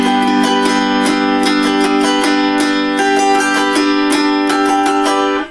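An autoharp is fingerpicked in a Travis pattern, with bright plucked strings ringing over a steady low drone. Thumb and finger plucks fall in a rolling, even rhythm, close and clear, with no voices.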